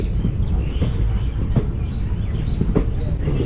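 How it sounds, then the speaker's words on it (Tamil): The Palakkad superfast express train rumbles and clatters steadily as it departs, with scattered clanks and faint squeals over a dense, continuous mechanical roar. "நம்ம ட்ரெயின் திண்டுக்கல் வழியாக வந்த வழியிலே ரிட்டர்ன் கிளம்பியாச்சு."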